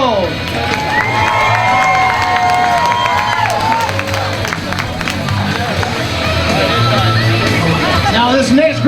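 A crowd applauds and cheers as football quarterbacks are introduced on stage at an entertainment event, loud clapping mixed with shouts, whoops and excited voices throughout.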